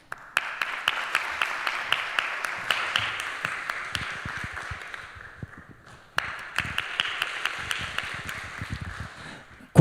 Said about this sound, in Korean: 나오실 때 환영의 박수로 여러분 환영해